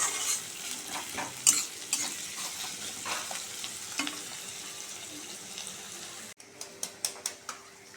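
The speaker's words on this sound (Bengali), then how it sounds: "পেঁয়াজটা একটু লাল লাল করে ভেজে নেব।" Onions frying in hot oil in a wok, a soft steady sizzle with scraping stirs of a spatula and a few sharp clinks of utensil on metal near the end, close and quiet.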